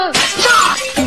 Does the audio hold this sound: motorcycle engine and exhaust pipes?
no